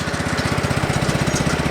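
A lawn mower runs close by outdoors in the early evening, its engine chugging in a fast, even pulse that stays loud and steady throughout with no voices.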